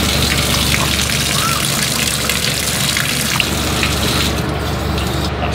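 Water pumps and gushes through newly connected lines in a showroom, a loud, steady rushing flow with a constant low hum underneath, unbroken throughout.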